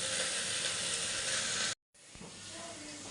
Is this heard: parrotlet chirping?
no